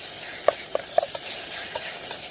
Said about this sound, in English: Just keep stirring that. Can stick in these titanium pots sometimes.